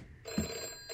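Telephone ringing inside the video game Deep Sleep, a brief electronic ring heard at moderate distance over a steady low ambient hum, with no talk.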